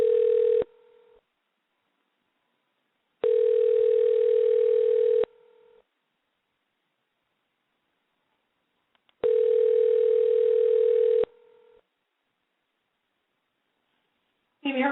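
A telephone call rings out on a phone line as a caller tries to reach someone, with two-second buzzing rings separated by long silent gaps and repeated in a steady pattern, clear and close on the line.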